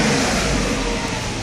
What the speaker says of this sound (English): You can see accelerates pretty nice.